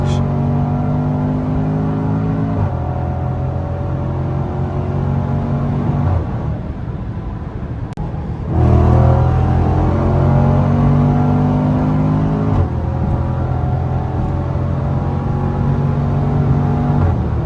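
A Range Rover SVR engine pulls hard on a high-speed drive, a loud rising roar heard from inside the car, broken by several distinct gear shifts where the pitch drops before climbing again.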